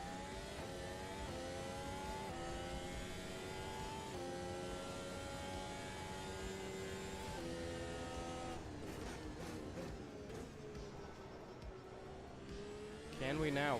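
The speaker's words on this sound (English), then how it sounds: "Now there should be engine sound and everything" A race car engine in the Automobilista 2 racing game, a sustained droning note that holds steady and shifts pitch with gear changes and revs, mid-distance, with someone talking over it.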